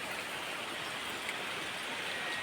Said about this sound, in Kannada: ಬೆಳಿಗ್ಗೆಯಿಂದಲೇ ಈ ಥರ ಲೈಟ್ ಮಳೆ ಬರ್ತಾ ಉಂಟು